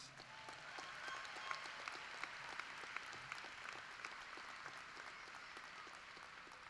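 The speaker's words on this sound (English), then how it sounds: "So let's give Haley a big round of applause." An audience at a 2018 Northeast State graduation ceremony applauds steadily, a faint, distant wash of many hands clapping that holds evenly throughout.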